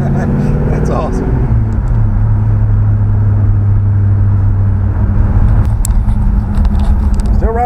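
A 1955 Chevy with a swapped engine drives along, its loud steady engine drone and road rumble filling the cabin, with a voice heard over the noise.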